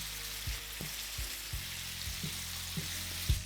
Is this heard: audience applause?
no